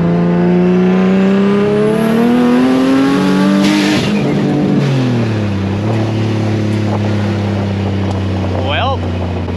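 A car engine revs hard while driving, a loud whining drone that climbs in pitch, drops at a gear shift, then climbs again, with a voice speaking briefly over it; the engine has an exhaust leak and a failing V-band clamp.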